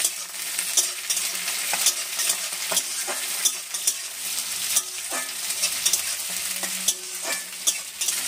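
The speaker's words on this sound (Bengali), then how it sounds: "পেঁয়াজটা ক্যাপসিকামটা একটুখানি ভেজে নেবো অল্প করে, খুব লাল লাল করবো না" Sliced onion and capsicum fry lightly in a pan for a Bengali chicken mixed-vegetable curry, with a constant crackling sizzle broken by repeated scrapes and clicks of a stirring spoon, close up and with no talk.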